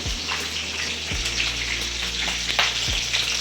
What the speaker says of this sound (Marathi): कढीपत्ता टाकल्यावर थोडंसं आवाज उभं राहायचं कारण थोडासा तडतड होतो